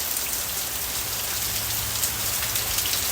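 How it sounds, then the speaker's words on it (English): Steady rain falls outdoors in a dense, even hiss of drops hitting surfaces, continuous and moderately loud with no voices. "And look at the rain."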